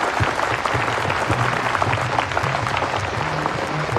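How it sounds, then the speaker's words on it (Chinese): An audience at an awards ceremony claps steadily and densely as winners walk onto the stage, a sustained even round of applause heard throughout. "让我们响起一次掌声"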